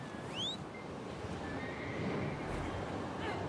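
A horse in a video game whinnies once, rising and high-pitched, over a steady background wash of ambient noise.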